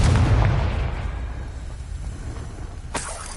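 Confringo explosive spell in Hogwarts Legacy, a loud, close boom with a rumbling tail that fades, followed by a sharper crackling burst near the end.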